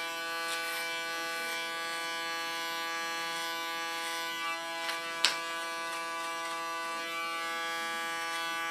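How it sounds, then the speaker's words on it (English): Electric hair clipper buzzing steadily and close as it cuts hair held over a comb, a constant harmonic hum with a few brief clicks and snips, no talk. "Now I hold my clipper comb flat."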